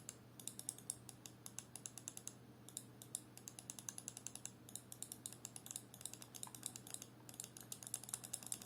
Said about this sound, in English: this is how the old Razer Naga sounds